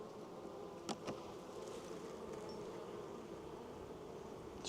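Honey bees hum faintly and steadily around an opened hive during a mid-winter apiary inspection, a soft continuous buzz with a couple of brief knocks from handling the frames.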